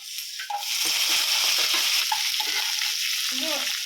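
Loud, continuous sizzling of shallots frying in hot oil, with occasional stirring sounds, close up.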